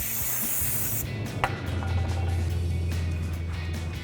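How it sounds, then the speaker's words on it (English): Brake cleaner blasts from an aerosol can onto a Mustang brake rotor in a steady close hiss lasting a few seconds, with a low hum underneath and no talking. "it's always a good idea to use some brake cleaner, spray it on there, and then wipe it down with a clean cloth"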